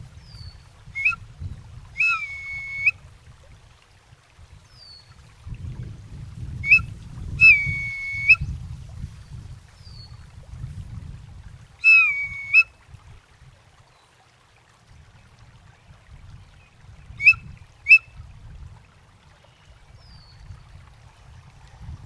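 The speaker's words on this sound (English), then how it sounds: "This is a turkey bone whistle." A turkey bone whistle sounds a high, clear tone in short bursts about four times, each a bright piping tone, spaced a few seconds apart over a low rumbling background.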